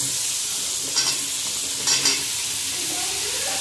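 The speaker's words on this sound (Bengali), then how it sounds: "দেবো হাফ চামচ হলুদ গুঁড়ো, এক টিস্পুন মশলাটা কষাবো" Spices with half a spoon of turmeric fry over a steady, close sizzle in a pan, with two brief stirring scrapes breaking through the hiss.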